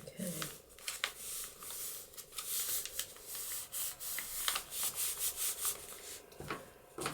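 Close, quiet rubbing of a tool burnishing paper on a handmade envelope folio, uneven strokes repeating over several seconds, with faint speech in the background.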